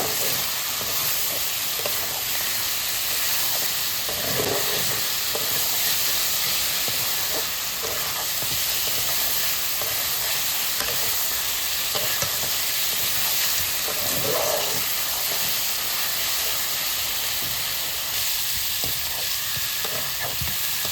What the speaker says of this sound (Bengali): শুধুমাত্র লবণ দিয়ে মাংসটা ভালোভাবে ভেজে নেব